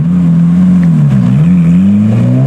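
A Ferrari race car engine revs hard while accelerating on a street, a loud, steady close-up roar with a slight dip and rise in pitch and no voices.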